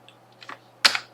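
Keys on a computer keyboard are pressed to type the letter C for a circle command: a few soft taps, then one sharper, louder keystroke, heard close up.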